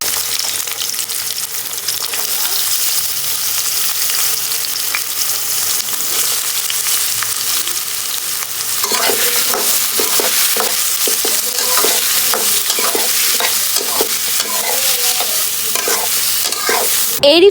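Chopped garlic sizzles in hot oil, then onions are added and stirred, with the frying growing louder and scraping stir strokes repeating steadily in the second half, close and clear with no talking.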